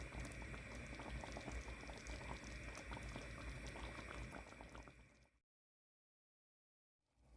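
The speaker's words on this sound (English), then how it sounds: "Now I'm going to bring this to a simmer" Sausage gravy of milk simmering in a pot, a dense continuous bubbling and popping held close and steady for about five seconds before cutting to silence, then returning briefly.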